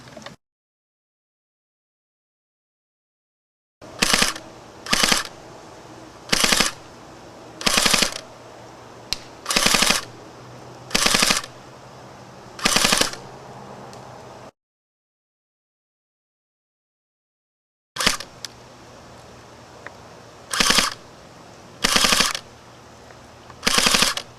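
A WELL R4/MP7 A1 airsoft gun fires on full auto in a string of short sharp bursts separated by brief gaps and two longer silences, loud and close with no voices.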